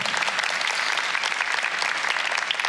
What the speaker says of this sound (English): Can we all please have a warm round of applause for Summer for making it here today?